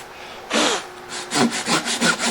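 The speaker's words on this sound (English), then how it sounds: "just keep sawing it on down until you get about there" A hand saw rasps through wood in repeated back-and-forth strokes, cutting a curved table part, close up and loud, with a steady rhythm after the first long pull.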